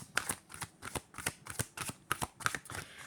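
Tarot cards being shuffled and drawn, a quiet, close series of crisp riffling and slapping strokes in an irregular rhythm, with no talking.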